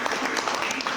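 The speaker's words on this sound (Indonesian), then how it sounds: "Oke, kasih aplaus." Students applauding in a classroom: a brief, dense patter of many hands clapping at once, loud and close, with a voice faintly mixed into it.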